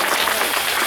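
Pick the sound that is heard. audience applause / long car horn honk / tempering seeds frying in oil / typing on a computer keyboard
audience applause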